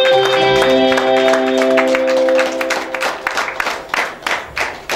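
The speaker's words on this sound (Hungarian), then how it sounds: "Nagy tapsot kérek szépen az ifjú férjnek!" Wedding guests clap for the groom at a Hungarian wedding reception: broadband applause builds over sustained music chords, growing dense and uneven with crowd noise as the music fades.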